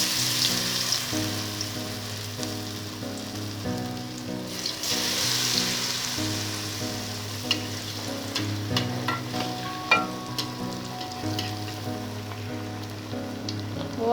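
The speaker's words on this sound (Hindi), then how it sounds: "तो इस तरह से हम फ्राई कर लेंगे। ये बस थोड़ी देर में ही ये फ्राई हो जाते हैं" Besan-coated bread slices fry steadily in hot oil, a continuous bubbling sizzle with light crackles and occasional small clinks, close and fairly loud, with no voices.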